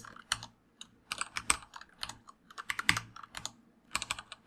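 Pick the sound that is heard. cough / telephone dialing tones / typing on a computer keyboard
typing on a computer keyboard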